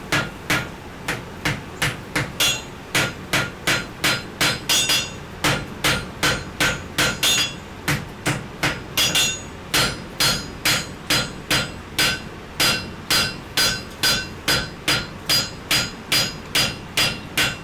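Sledgehammer blows strike wrought iron at full welding heat on an anvil during forge-welding of a wrought iron sledge hammer, a steady run of loud ringing clangs repeating about twice a second, close and alone.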